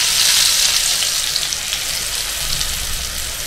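Mustard seeds and cumin fry together in a hot pan with a loud, steady, close-up sizzling hiss that stays unbroken throughout.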